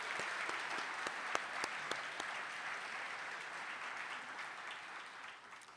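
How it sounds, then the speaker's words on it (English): Sustained audience applause fills an alumni day luncheon at a university homecoming, a dense steady wash of many hands clapping that fades slightly at the end, with no talk over it. "One more round of applause for all of our honorees."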